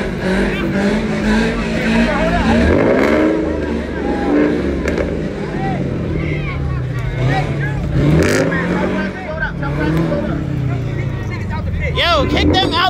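A car engine revs hard and downshifts in repeated rising and falling bursts with tire squeal at a nighttime street takeover in Baltimore, close and loud under crowd noise and people shouting.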